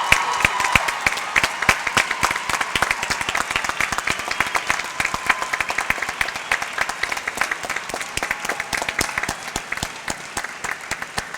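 A commencement audience at Lynchburg College applauds faculty, staff and coaches: dense, sharp clapping from a large crowd, loud and sustained throughout without talk.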